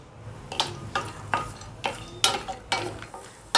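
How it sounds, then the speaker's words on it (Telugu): Cashews fry in hot ghee in a pan, with a soft sizzle under short, sharp stirring scrapes that repeat roughly every half second, close up and without talk. "ఇప్పుడు కాజు వేసుకుందాము."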